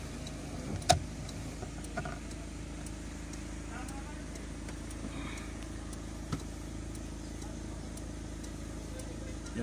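The cooling fan on a Toyota Corolla 4AF EFI engine whirs steadily beside the idling motor, a constant low hum with a couple of faint clicks, while someone talks over it.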